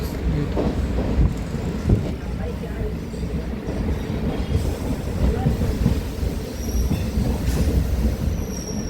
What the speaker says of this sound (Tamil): ட்ரெயின் கொருக்குப்பேட்டை ரயில்வே ஸ்டேஷன்லேருந்து டிபார்ட் ஆகிடுச்சு.